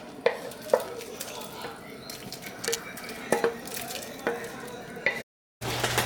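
Onion, tomatoes and cilantro go into a pot of charro beans: repeated clinks and scrapes of a utensil against the pot over a soft steady sizzle, then a brief silent break before the sizzling resumes.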